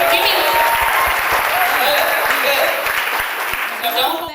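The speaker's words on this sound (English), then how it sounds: "we need big applause, big cheers" A large audience claps and cheers loudly and steadily for over four seconds, a dense wash of applause with scattered whoops that eases slightly toward the end.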